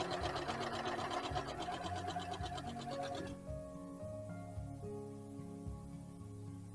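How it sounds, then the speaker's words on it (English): A sewing machine runs with a rapid mechanical chatter for a few seconds, then stops, leaving a quieter hum and faint clicks. "probably not hearing me over the sound of the sewing machine"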